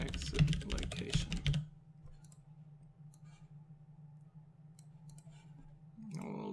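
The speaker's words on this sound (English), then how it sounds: "So I'll drag this out and type in a comment, check for collision at exit location." Fast typing on a computer keyboard, a dense burst of close key clicks that stops after about a second and a half, followed by a quiet low hum with a few faint clicks.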